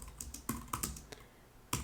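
Scattered keystrokes on a computer keyboard, a handful of sharp, close clicks with uneven gaps and a quiet stretch before a final tap.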